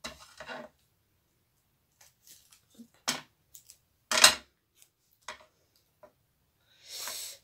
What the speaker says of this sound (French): Il faut que je nettoie mes ciseaux au Cura parce que alors, ça colle de partout.